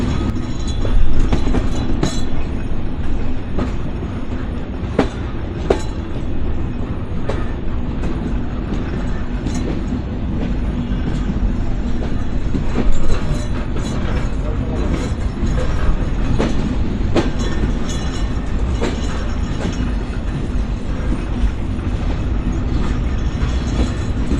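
A train runs steadily on the rails from Jessore station in Bangladesh, a loud continuous rumble with rhythmic clacks of the wheels and occasional sharper knocks throughout.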